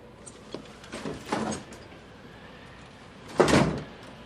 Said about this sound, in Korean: 부인이 떠나자 하인 하나가 문을 닫았다.